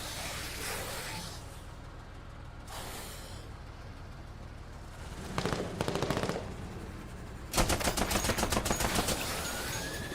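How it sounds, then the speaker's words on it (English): Full-auto gunfire in a video game rattles out in two rapid bursts, the second louder and closer, over a low background hum with no talking. "I could just have her walk up and open up on it full auto."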